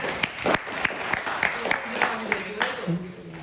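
An audience at a magic show bursts into applause, a dense run of claps lasting a few seconds, while someone talks over the clapping.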